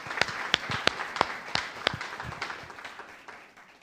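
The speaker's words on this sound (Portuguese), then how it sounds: "Uma salva de palmas do Espírito Santo." During a church sermon, a congregation gives a brief round of applause: sharp, evenly paced claps for about two seconds, then a softer fading patter.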